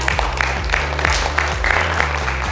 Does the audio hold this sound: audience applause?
yes